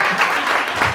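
Audience applause at a 20th anniversary celebration in Mauritius, a steady, dense wash of clapping that holds evenly through the full second with no voices on top.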